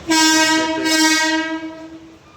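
A loud electric train horn blares for about two seconds and then fades as a local train sets off from platform seven.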